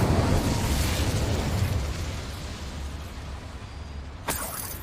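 Incendio fire spell cast in Hogwarts Legacy inside a mine, a loud burst with a whooshing roar that fades over several seconds, followed by a short sharp crack near the end.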